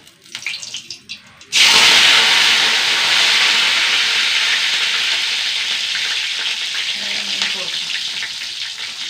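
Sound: curry leaves frying in oil

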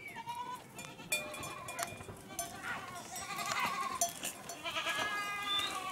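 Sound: large horned goats bleating, returning from pasture

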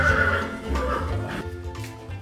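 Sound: Finnhorse neighing

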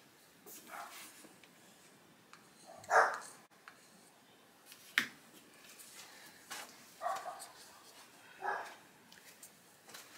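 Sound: dogs barking

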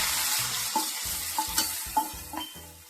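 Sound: cashews and raisins frying in a pan

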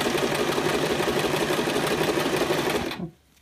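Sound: sewing machine sewing cording into piping

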